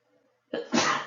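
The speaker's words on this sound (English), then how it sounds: "Oh, excuse me, I had to sneeze" A single sharp sneeze with a quick intake of breath before the burst, close and loud against near silence.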